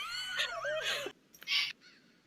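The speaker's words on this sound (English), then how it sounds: "that was perfectly timed for the sound effect of the bird" A bird call sound effect plays during a tabletop fantasy game session, a few shrill squawking bursts that follow a short stretch of voice-like crying and fade into faint noise.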